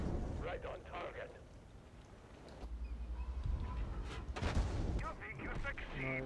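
Tank cannon fire in a T-55 video game, heavy booms and battle effects heard faintly beneath steady excited commentary from a player.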